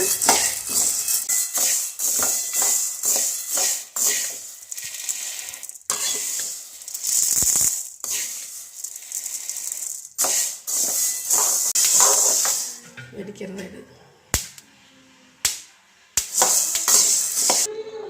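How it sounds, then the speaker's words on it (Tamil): White urad dal roasting in a pan for a children's snack ball, with dense metallic scraping and clinking of a spoon stirring against the pan in quick irregular bursts, loud and close, no talk. "இப்போ நம்ம வெள்ளை உளுந்து போட்டோம் பார்த்திங்களா அது நல்லா வறுத்துருக்குதுங்க"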